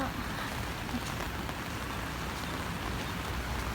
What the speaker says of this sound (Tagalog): Sobrang baha. Saan tatawid? Walang tatawidan. Grabe, baha.